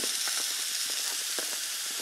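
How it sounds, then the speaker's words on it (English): Chicken breasts sizzle steadily in a hot pan, a constant bright hiss broken by frequent small pops and crackles, close and loud. "you can still hear it's like sizzling, popping. It's noisy. That means it's cooking."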